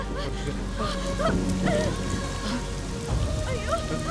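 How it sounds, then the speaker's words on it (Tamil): Rain pattering steadily outdoors as a downpour begins near a temple, a soft continuous patter under background music with faint voices mixed in. "ஐயோ, மழை வர மாதிரி இருக்கு."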